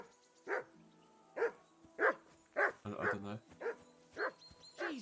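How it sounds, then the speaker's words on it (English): Repeated barking from a dog in the video game Kingdom Come: Deliverance II, eight or so sharp barks at a regular pace, with someone speaking briefly in the middle. "Jesus, Henry, that barking's driving me nuts."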